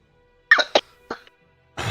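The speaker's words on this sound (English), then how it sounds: "Sent one of the maids into a coughing fit." A maid in a Pathfinder tabletop role-play session bursts into a short coughing fit: two sharp close coughs, a weaker third, then a rougher raspy burst at the end, with no talking over it.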